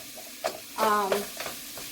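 Ground meat for Filipino lumpia cooking in a frying pan, with soft sizzling broken by a few stirring scrapes and clatters, close by and moderately loud.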